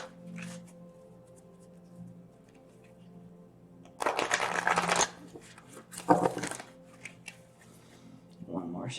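Tarot cards shuffled by hand in two crisp riffling bursts, close and fairly loud, separated by quieter handling noise, with a voice speaking nearby.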